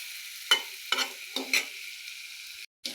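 Fish is stirred into fried spice paste with okra, a faint hiss of frying broken by four quick scraping strokes of a spatula against the pan, close, then a short cut-out.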